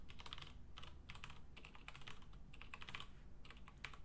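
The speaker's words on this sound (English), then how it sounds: "typing errors" Rapid, uneven typing on a computer keyboard during a programming session, the clicks steady and close over a low background hum, with no voices.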